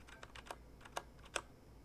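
Brown-switch mechanical keyboard keys pressed lightly without bottoming out, close to the mic: a sparse, uneven run of soft clicky taps, a few slightly sharper than the rest, over quiet room hiss.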